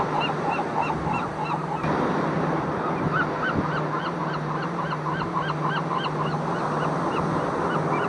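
Seagulls call repeatedly at Morro Harbor on a foggy day, a chorus of honking, squawking cries over a low wash of water and wind, with no talking.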